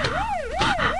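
A police siren wails loudly and close by, its pitch sweeping up and down in a fast repeating cycle, with no voices over it.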